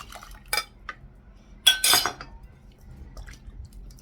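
A bowl rinsed with water in a kitchen, a few clinks of dishware followed by a brief swishing splash, then quiet handling sounds; no talking.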